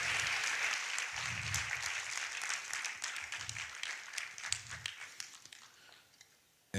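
Audience applause for a music group at the opening night of an international workers' film festival, a crowd clapping steadily from the start and tapering into scattered claps before dying away.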